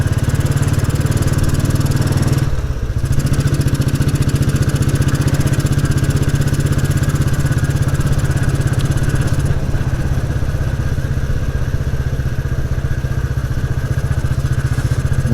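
A Royal Enfield Bullet 350 motorcycle engine runs steadily while riding, with a loud, continuous low thump and rumble and a brief dip in level partway through.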